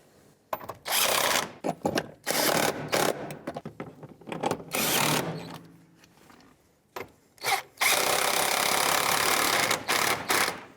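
A ratchet snugs up bolts during a rear ABS sensor replacement on a 1997-2001 Lexus ES300, coming in loud, close bursts of rapid clicking separated by short pauses.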